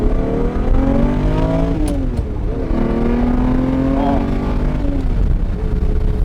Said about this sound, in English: the real Lambo experience is hearing that massive 6-liter V12 sing